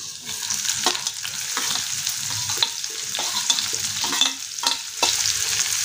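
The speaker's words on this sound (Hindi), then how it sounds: "प्याज को बढ़िया फ्राई कर लेंगे।" Finely chopped onion frying with chilli and garlic sizzles loudly and steadily in a pan, broken by repeated scraping stirs at an irregular rhythm, with no one talking.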